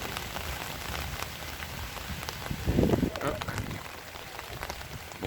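Steady rain patters on surfaces during an outdoor walk in November, a continuous close hiss of drops with a brief louder swell in the middle.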